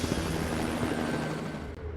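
A helicopter, a stock production aircraft, drones steadily with a continuous rotor and engine roar that stays loud and close throughout, with no speech over it.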